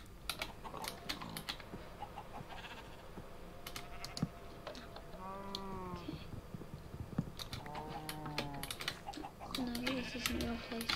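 Sheep in Minecraft let out several bleats in the middle of the stretch, set against rapid keyboard clicking and people chatting, the calls moderately clear over a quiet background.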